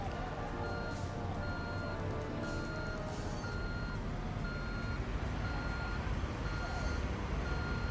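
Truck reversing alarm in the Construction Simulator 2 game on PS4: a steady series of evenly spaced high beeps repeats over a constant engine and traffic rumble, with no voices.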